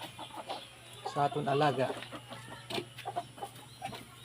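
Brahma hens cluck softly near a breeder's pen, a short burst of clucks rising in the middle, with a person talking quietly over them and a faint steady hum underneath.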